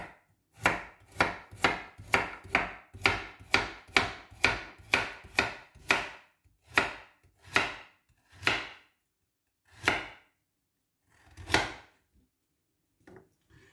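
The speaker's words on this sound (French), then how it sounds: "Quand je vais découper ma carotte" A knife chops a carrot on a cutting board in a run of about a dozen crisp, evenly spaced thuds. The chops slow to a few sparser strokes near the end. They are close and clear, with no talking.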